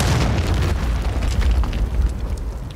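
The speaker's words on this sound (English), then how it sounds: "Friendly cruise missile deployed." A friendly cruise missile strike in Call of Duty Modern Warfare III during a team deathmatch, heard as a sustained loud explosive rumble with heavy low-end boom rolling on through the whole moment, no talk over it.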